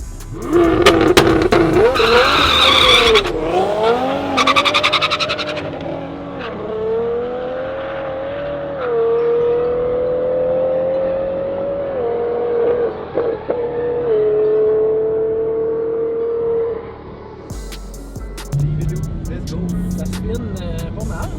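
A car engine roars and revs with a sustained high twin-turbo whine rising and falling, some tire squeal, and voices talking over it, at a Subaru enthusiast event.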